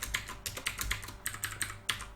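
Rapid clicking of computer keyboard keys during a copy-and-paste, a quick irregular run of about a dozen close, crisp keystrokes.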